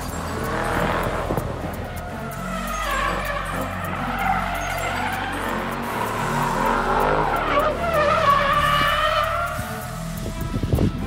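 A Toyota GT86 drifting at a closed skate park, its engine revving hard under long, wavering tire squeals that rise and fall near and loud throughout.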